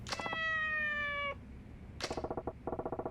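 A cat meows in the video game Yakuza 4 Remastered, first one long drawn-out meow, then a quieter rapid run of short chirping meows, faint and close.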